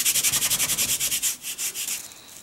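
Micro fine glitter rubbed briskly with rapid rhythmic back-and-forth scratchy strokes, close and fairly loud, slowing and softening toward the end, no voices.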